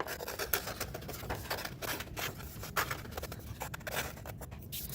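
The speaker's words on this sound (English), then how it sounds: "I want you to use your scissors to cut out that circle." Scissors cut a circle out of paper in a quiet indoor space, giving faint, irregular snips and rustling scrapes that come close together, with no voices.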